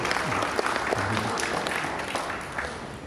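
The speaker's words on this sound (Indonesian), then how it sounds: "Tepuk tangan." Audience applause at a company presentation: steady crowd clapping fills the space, moderately loud, with faint murmured voices underneath.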